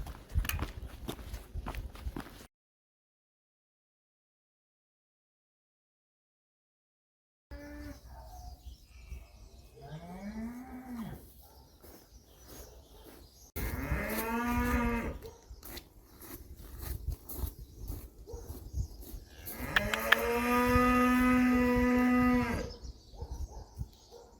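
Cattle lowing in a foggy rural field, several loud drawn-out moos rising and falling at close range with pauses between, plus faint shuffling and chewing sounds; no one speaks.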